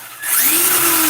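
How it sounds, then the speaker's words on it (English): A brushed-motor power tool cranked up to turbo mode spins up from a low hum into a loud, steady high-speed whine with a rising pitch and bright broadband buzz, sustained close by without speech. "That's not bad for a brush motor. That's going to be pretty fast."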